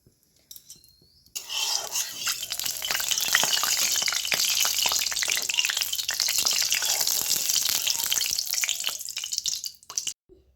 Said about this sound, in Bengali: তেলের মধ্যে সবগুলো মাছ আমি এবার দিয়ে ভেজে নেব